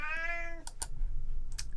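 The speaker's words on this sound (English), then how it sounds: "now he's meowing and pawing at my legs" A cat meows once, a clear close tonal cry at the start, followed by a few sharp clicks and taps.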